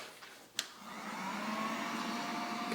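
A steady, broadband blowing roar from a heat gun warming a coated Polaris Sportsman exhaust runs continuously after a brief click, moderately loud and close, with no talking.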